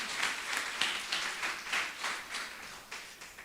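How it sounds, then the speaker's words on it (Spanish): Audience clapping at a church sermon, about a dozen distinct rhythmic claps in a steady beat, moderately loud with no talk over them. "Denle un aplauso al Señor, por favor."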